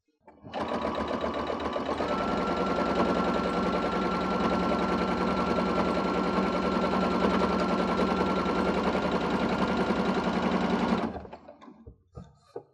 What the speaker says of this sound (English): Make sure everything's nice and flat and straight, and then continue stitching.